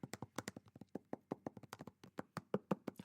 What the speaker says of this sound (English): A lot of people are tapping on those screens